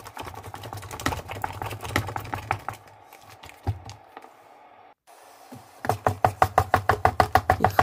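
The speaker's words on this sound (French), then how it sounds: "Il faut bien mélanger pour que la pâte soit très lisse." Thick plantain fufu dough being stirred in a pot over a low flame, producing dull slapping knocks in uneven bursts, a brief quiet stretch midway, then a fast run of regular, loud thumps near the end.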